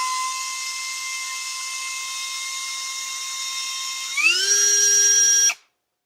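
A small electric hand drill whines at a steady high pitch, then bogs down and shifts tone as it bites into a plastic crankbait lure body, before stopping abruptly.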